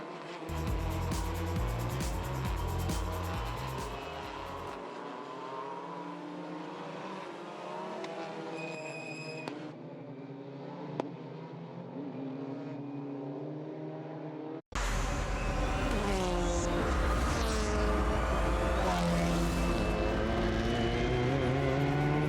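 TCR touring race cars roar around the Sydney circuit during a TCR Australia race, engines revving and shifting loudly through gears, with a sharp cut partway through to another burst of close, dense engine noise.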